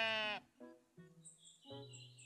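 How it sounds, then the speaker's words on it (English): Sheep in the building game Tiny Glade bleat in a few short, wavering calls, fairly soft and isolated, with a light chirping tone layered near the end. "Hey, little sheep."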